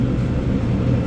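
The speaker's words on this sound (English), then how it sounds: "The sound you hear, that's a" A low, steady rumble of airplane engines at an airport during boarding, a continuous dull roar heard briefly without talk.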